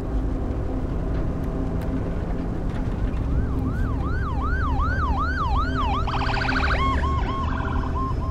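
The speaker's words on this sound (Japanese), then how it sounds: "ちょっと日本の救急車と違う感じだね。" A wailing ambulance siren in The Last of Us swells in from a distance over a steady engine rumble, its pitch sweeping up and down repeatedly and growing louder toward the end.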